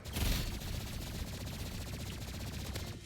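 An energy pistol in the Roblox game Rivals, fired rapidly and held down for about three seconds, giving a steady fast stream of crackling shots after a heavier opening thump, close and continuous.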